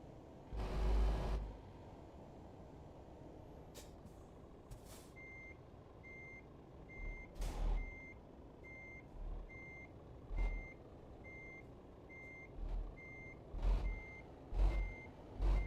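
Truck reversing beeps from the Euro Truck racing game: a steady run of short electronic pips repeating evenly at a medium distance, broken by low thuds and rumbles of the truck engine and brakes, with no talk.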